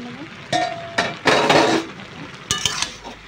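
Metal lid lifted off a cooking pot of boiling taro leaves, giving a few sharp clanks and scrapes of metal on metal with a short burst of steam hiss in between, close and fairly loud.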